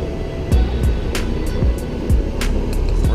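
A light aircraft's engine drones steadily while turning onto final approach, with wind rush and several short intermittent thumps and clicks over the continuous hum.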